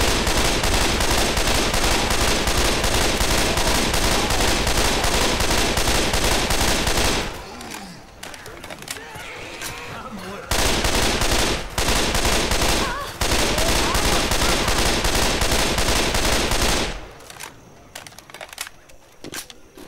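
Sustained bursts of rapid automatic gunfire in Left 4 Dead 2, loud and close, broken by brief gaps before the shooting resumes and then trails off.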